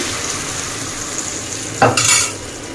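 Patishapta pitha batter is spread across an oiled pan, giving a steady close sizzle that suddenly swells into a brighter, louder crackle near the end.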